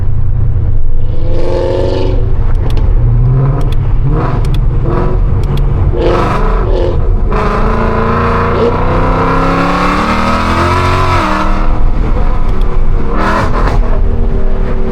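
A catless Ford Mustang 5.0 accelerating on a road, its loud, raw engine note rising and falling through gear changes, with some talk mixed in.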